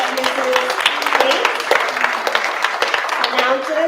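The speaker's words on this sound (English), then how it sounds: "We'll clap for you" An audience at a school district board meeting claps for student award recipients and scholars, steady clapping running throughout beneath a voice speaking over it.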